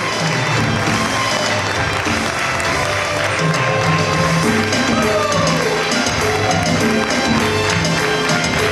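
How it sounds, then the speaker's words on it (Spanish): A church audience applauds the Iglesia Nuevo Comienzo children's choir at a Christmas program, loud, dense, sustained clapping with crowd noise and a faint tonal ringing underneath. "Fuerte el aplauso para el coro de niños de la Iglesia Nuevo Comienzo"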